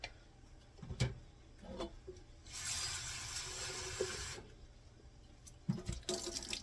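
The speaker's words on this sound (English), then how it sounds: "These jars were clean on the shelves in my basement, but I'm gonna wash them anyway." Running tap water splashes while glass canning jars are washed in a sink, a steady stream in the middle framed by clinks and knocks of glass.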